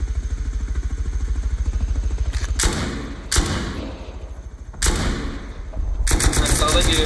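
Gunfire in the survival video game Rust, with several sharp broadband shots and short bursts spaced a few seconds apart over a steady low engine-like rumble, fairly loud and close.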